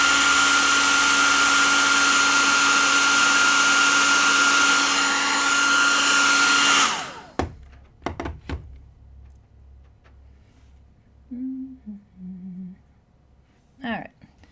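A hair dryer roars steadily and loudly for about seven seconds while drying wet watercolor paint on a cardinals-in-a-forest painting, then cuts off, leaving quiet handling clicks and brief voice sounds.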